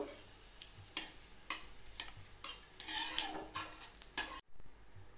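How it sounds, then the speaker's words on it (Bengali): Whole cumin seeds and two bay leaves tempering in hot oil in a kadai, a soft quiet sizzle punctuated by four or five sharp metal spatula scrapes, then a sudden cutoff. "ফোড়নটাকে খুন্তি দিয়ে একটুখানি নাড়াচাড়া করে নেব"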